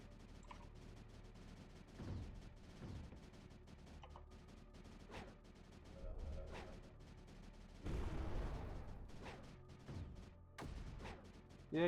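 Mortar fire in the video game Creeper World 4 gives repeated low booming thuds at an irregular pace, with a heavier burst of blasts near the end, all fairly faint.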